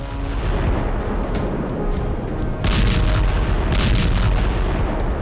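Drone-dropped bombs exploding against buildings in Sumy during the war in Ukraine, heard as heavy rumbling booms and crackling blasts in a dense, continuous, loud roar with sharper bursts partway through.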